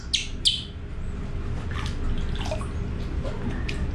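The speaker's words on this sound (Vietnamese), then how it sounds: "Bây giờ xả nước rồi." Water running into a small bath for a baby monkey, a steady low gush with splashes and small high squeaks or chirps scattered over it.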